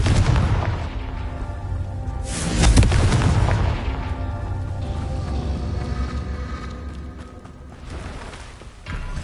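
A Confringo fire spell in the video game Hogwarts Legacy bursts with a loud, deep boom and rumbling blast, followed by a lingering crackling roar that slowly fades and then swells again near the end.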